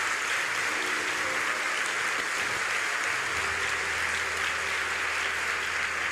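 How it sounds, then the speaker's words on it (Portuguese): Congregation clapping at a Catholic church service, a dense, steady wash of applause that stays even and fairly close throughout, with no voices on top. "bata palmas"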